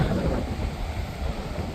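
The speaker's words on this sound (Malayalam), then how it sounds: "അതാ ഈ നല്ല കാറ്റ്." Strong wind blows outdoors on the outskirts of Halle (Saale), Germany, near a lake, a steady broad rushing roar that buffets the microphone throughout, with no voices.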